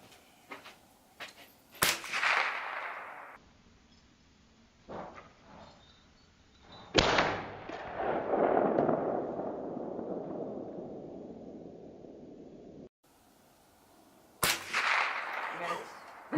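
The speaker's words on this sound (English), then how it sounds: "He's gonna shoot now." Outdoor .22LR rifle fire: several sharp cracks spaced several seconds apart, each with a trailing echo, loud and near, with brief talk between shots.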